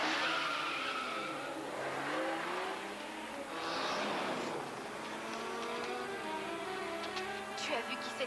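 A car pulls away with its tires squealing, a drawn-out screech and revving engine that rise and fall over several seconds at moderate distance, with faint voices mixed in.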